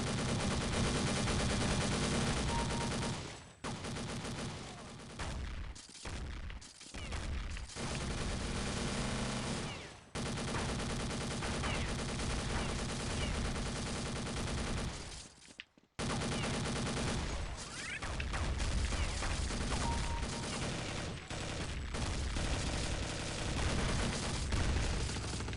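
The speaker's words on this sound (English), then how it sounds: "That's a lot of machine gun fire." Dense, continuous machine gun fire in Counter-Strike: Condition Zero, loud and sustained bursts with brief gaps, including a near-silent break around the middle before the shooting resumes.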